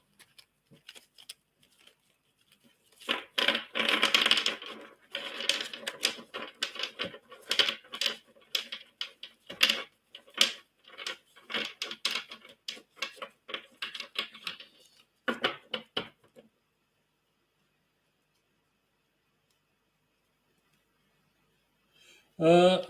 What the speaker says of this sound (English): This is the way I usually shuffle the cards.